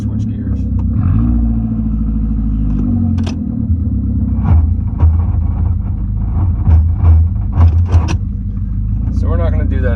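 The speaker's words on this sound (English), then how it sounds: "Sounds like when we try to switch gears." 1988–1992 Toyota Corolla with a failing A131L automatic transmission: a loud engine rumble with revving swells and knocking, clunking bursts as gears are engaged, while a person talks over it.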